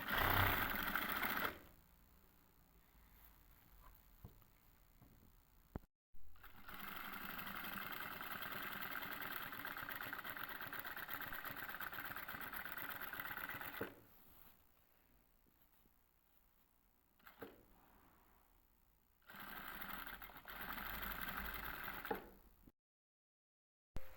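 An electric sewing machine runs in long steady bursts while stitching zigzag lace in three rows along the hem of a designer lehenga, its motor hum and needle chatter loud and close with short pauses between runs.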